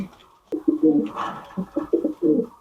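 Large king show pigeons cooing close by, a few soft throaty coos in quick succession over a quiet background, with no talk.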